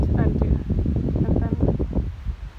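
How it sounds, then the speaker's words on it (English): Strong wind gusts through a garden, buffeting the microphone with loud, low rumbling noise throughout while a person talks over it. "It's so windy today, and I hope you can hear what I'm saying, that the wind is not destroying the sound totally"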